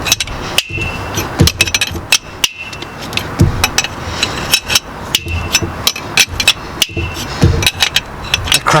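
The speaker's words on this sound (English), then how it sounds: "Cracking noise you can hear is the seized glow plug coming out." A seized glow plug in a Peugeot, Citroen or Ford diesel engine is worked out of its bore, giving repeated sharp cracks and metallic clicks at an irregular rhythm, close up and loud.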